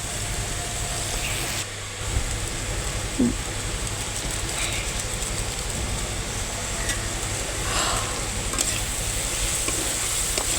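Boiled beef ludus being stirred with Maggi masala in a pan, a continuous loud sizzle with scraping stir strokes throughout, no talk.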